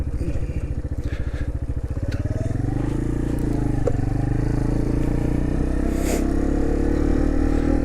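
A manual-gear motorcycle on a training ride idles with a rapid low putter, then pulls away and turns around, the engine note rising into a steady close drone, with brief speech and wind in the background.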